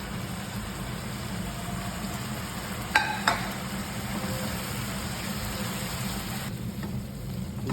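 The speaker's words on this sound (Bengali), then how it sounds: "ভালো করে এটাকে কষাতে হবে যেন সিদ্ধ হয়।" Chicken coated in turmeric, cumin, coriander powder, black pepper, red chilli powder and salt is stirred and sautéed in a pan. A soft, even sizzle runs over a low steady hum, with a couple of sharp utensil knocks midway.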